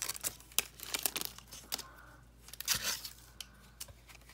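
Crinkly plastic wrapper of a basketball trading card pack torn open up close, a run of sharp rips and crackles with brief pauses, no talking.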